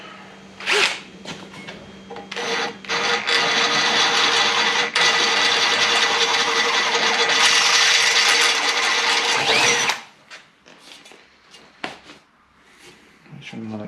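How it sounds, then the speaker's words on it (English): A power drill bores through a cast iron master cylinder, a loud grinding whir that runs steadily for several seconds before stopping, followed by quieter handling noises and short clicks. "So I've just got to rip the drill out and send it through."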